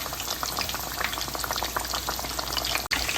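Steady, dense crackling and popping of a frozen pork katsu cutlet deep frying in hot oil, close up and continuous, with no voices.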